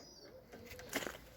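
Close-up burst of a tumbler pigeon's wings flapping as it is released and takes off, a brief fluttering rush after a moment of quiet.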